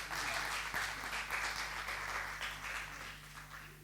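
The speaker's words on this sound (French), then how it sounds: "On applaudit pour elle." Audience applause at a school student-journalist festival contest, a sustained, moderately loud round of many people clapping that gradually eases off toward the end.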